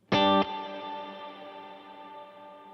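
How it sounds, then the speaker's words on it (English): Electric guitar through a reverb with a long decay: one bright, loud strummed chord rings out and slowly fades, its shimmering tail still sustaining well after the attack. "So here's a reverb with a really long decay."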